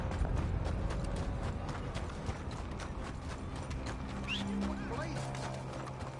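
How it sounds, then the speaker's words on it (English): A horse in the Red Dead Redemption 2 video game clops steadily at moderate volume over a dense, busy in-game ambience. A brief whinny may rise midway, and voices can be heard. "Damn horse."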